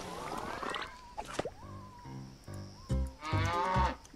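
A cow moos in the video game Blendimals, giving several drawn-out, tonal lowing calls with short gaps between them, loud and close.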